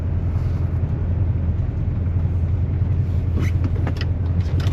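A 1972 Cadillac Eldorado with a 500 cubic inch engine cruising along, heard as a steady, continuous low rumble and road drone from inside the cabin, with no talking.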